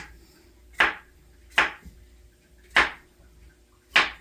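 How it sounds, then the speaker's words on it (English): A knife slices through plantain on a cutting board, four distinct crisp chops spaced about a second apart, close and clear with little else around them. "we're going to cut it into slices about 1 inch apart"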